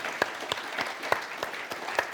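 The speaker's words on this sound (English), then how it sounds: "Can we give our panellists a huge round of applause" Scattered clapping from a seated audience at a public conversation on sustainability in Blenheim, with a few separate claps spaced through a short, moderately quiet burst.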